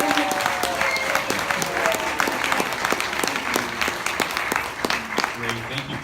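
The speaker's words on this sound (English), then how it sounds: "A huge round of applause for her, please." An audience applauds the author Mae Sinclair-Kaspick at the launch of her book The Mountain Within, with steady, dense clapping across the whole stretch and a few voices cheering faintly underneath.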